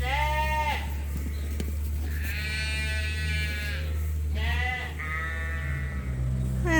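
Young March lambs on a sheep farm bleat repeatedly in a pen, several loud, close, quavering calls spaced apart over a low steady background hum.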